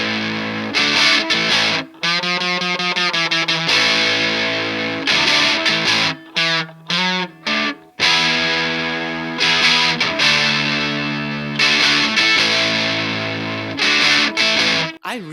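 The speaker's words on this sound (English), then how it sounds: "It's such a thick and messy distortion sound." An electric guitar played through a simple point-to-point distortion circuit gives a thick, messy, fuzzy tone, with strummed chords and short riffs separated by brief silent gaps, loud and alone without talking.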